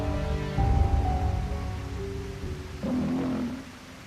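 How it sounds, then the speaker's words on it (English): Steady rain falling as a story sound effect, a soft continuous wash of drops with a gentle swell partway through, alone and moderately quiet. "Dear Haechi, please stop this rain."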